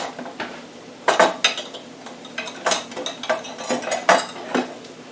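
A fork scrapes and clinks against a pan while stirring melting pizza burger topping on a stovetop, a series of close, sharp metallic taps and scrapes in an irregular rhythm, with no talking.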